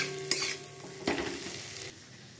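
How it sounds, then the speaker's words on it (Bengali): Capsicum fries on a low flame in a pan for paneer korma. Soft, faint sizzling runs throughout, with a couple of stirring scrapes, and then it quiets toward the end. "ফ্লেমটা একটু লোতে রেখে আমি ক্যাপসিকামটা একটু ভেজে নেব।"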